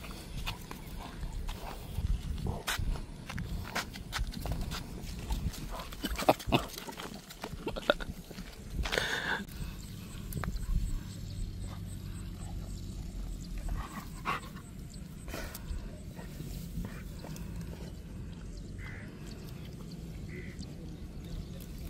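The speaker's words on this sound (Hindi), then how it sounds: "डॉग नहीं है ये बकरी है" A goat bleats now and then around a home with plants, mixed with scattered farmyard sounds and some hoof-like clatter, fairly close, with occasional voices in the background.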